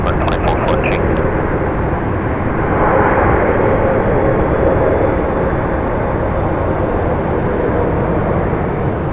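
A jet airliner departs at Phoenix Sky Harbor Airport, its loud, continuous engine roar filling the whole stretch, swelling slightly midway, with a few short metallic ticks at the start.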